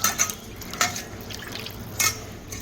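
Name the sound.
rohu fish being washed with water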